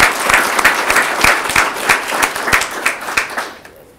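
Audience applause for young philanthropists at a youth leadership event in Coshocton County, a steady wash of many hands clapping with crisp individual claps, continuous and fairly loud before fading out near the end.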